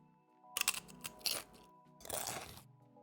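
Potato chips crunched while eating, in two bursts of loud, close crisp crunching separated by a brief pause, over faint background music.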